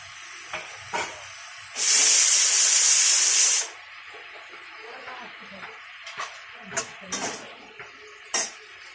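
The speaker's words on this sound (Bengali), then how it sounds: "এবার বেগুনগুলো দিয়ে দেবো।" Eggplant pieces drop into a hot pan with mixed vegetables for labra curry, setting off a loud burst of sizzling and hissing steam lasting about two seconds, followed by scattered clinks of a spatula against the pan.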